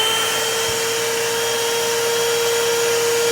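A vacuum cleaner powered by a NURZVIY G300 portable power station runs with a loud, steady whine and a constant motor hum that holds unchanged throughout, with no talking.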